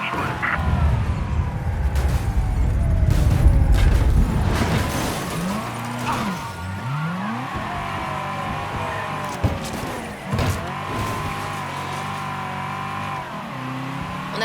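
Car engine revving and tires squealing during driving and crashing in the video game Mafia III, with loud accelerating engine tones and bending pitch sweeps over several seconds, followed by sustained engine drone with sharp impact-like bursts.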